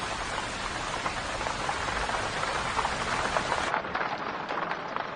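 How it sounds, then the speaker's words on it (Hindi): Steady, heavy rain pours down in a dense, continuous hiss that softens slightly near the end, close and loud with no voices over it. "अचानक से बारिश क्यों होने लगी?"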